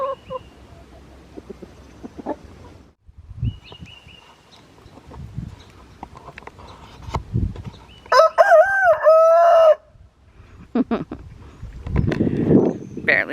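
A rooster makes the clucking call he uses to summon hens to food he has found, followed by a loud crow; a person speaks at points around the calls.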